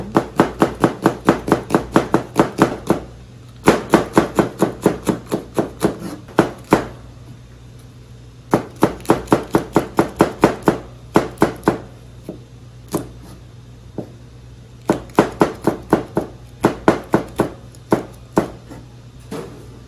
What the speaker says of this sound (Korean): 자 이렇게 잘게 좀 다져주시고